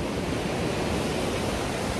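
A fast-flowing river near Rishikesh rushes with a close, steady broadband roar, a dense unbroken wash of water noise with no voices over it.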